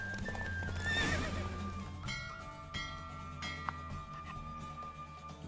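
Roach, a horse in The Witcher 3 video game, gallops in a race, with a loud whinny near the start and then steady clip-clopping hoofbeats, all set against game background sound.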